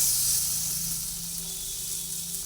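Steady sizzling of potatoes frying in hot oil in a kadai, a close, continuous hiss with no voices.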